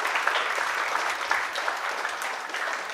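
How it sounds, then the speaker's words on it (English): Audience applauding for the mothers at a talent show audition, a loud, dense, continuous round of clapping from a large crowd. "Ladies and gentlemen, a big round of applause to the mothers,"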